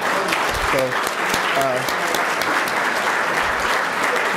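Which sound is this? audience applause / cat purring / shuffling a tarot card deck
audience applause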